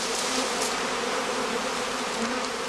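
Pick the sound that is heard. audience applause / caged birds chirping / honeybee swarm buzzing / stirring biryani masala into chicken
honeybee swarm buzzing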